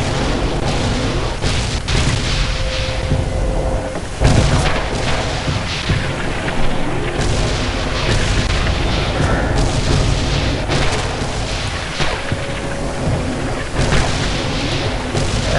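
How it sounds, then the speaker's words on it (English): Mortar fire explosions in the video game Red Orchestra 2, set at Stalingrad's Red October Factory: dense, continuous rumbling booms and blasts overlapping throughout, loud and sustained with sharper impacts near the four-second mark. "Company mortars firing on the targets at your 85C4."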